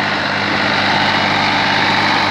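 A New Holland 3600 tractor, a 47 hp three-cylinder with an inline pump, runs steadily in a dusty field with a loud, constant engine drone close by and no talk.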